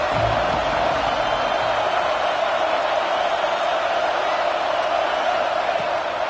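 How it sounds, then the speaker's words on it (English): A football stadium crowd roars steadily through a third-down play, a dense, sustained wall of cheering that holds loud and even from start to finish with no break. "Decibels rising as the crowd gets behind this defense on third down."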